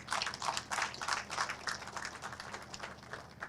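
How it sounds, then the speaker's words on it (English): Audience applause at the Janjanbureh Bicentenary Festival 2024 in honour of a tourism minister, a steady wash of many hands clapping at moderate level, fading slightly over the few seconds. "And I'd like you to give him a real round of applause."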